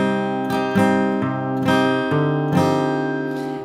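Guitar plays the first bar of a song: clear, close chord strums ring out several times in a relaxed rhythm, with no voice.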